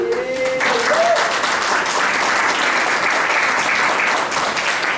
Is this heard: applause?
yes